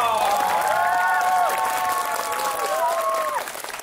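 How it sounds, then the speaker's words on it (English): Wedding guests clap for the newly announced bride and groom, a steady spread of applause with sustained musical tones ringing over it that fade near the end. "Please give them a big, loving round of"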